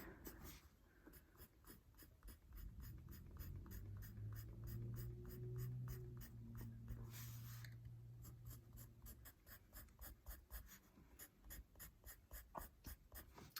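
Pencil hatching on drawing paper, graphite strokes with HB and 2H leads: rapid, rhythmic scratchy strokes repeating steadily, close and quiet, with a low hum in the background for part of the stretch.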